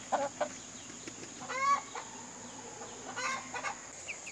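Barred Rock hens at a small homestead clucking near the listener in short, irregular bursts, with a steady high hum running underneath.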